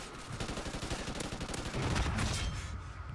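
An SA-805 rifle in Call of Duty Ghosts fires a rapid, steady automatic stream of loud, close shots for about three seconds, with no voices.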